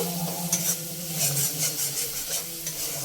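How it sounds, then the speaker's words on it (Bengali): Spice paste with Kashmiri chilli powder frying and being stirred in a pan for tangra fish curry, a steady soft sizzle with scraping strokes of a spatula, close and continuous. "দিয়ে ভালো করে মশলাটা কষিয়ে নেব।"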